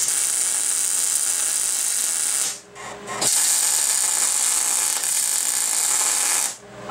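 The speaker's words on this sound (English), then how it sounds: "A couple of tack welds here to hold it together" Two long bursts of harsh, crackling hiss from tack welding metal on a Datsun 521 ball joint bending die, separated by a short pause, loud and close.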